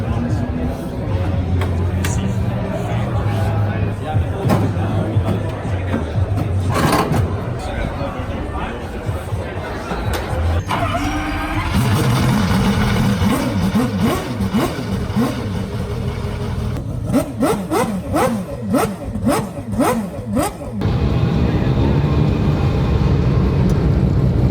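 Mazda AWD 4-rotor RX-7 race car engine starting up and running, a rough, loud rotary idle with sharp revs and pops, alternating with steadier stretches of engine drone, while people talk nearby.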